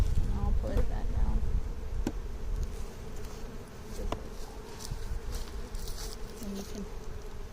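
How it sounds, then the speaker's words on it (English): Honeybees buzz at a hive during a spring inspection, a dense close drone with individual bees passing by the ear, joined by faint handling clicks and a few quiet voices. "if there's one hive that's going to sting you in the spring, it is Ruby."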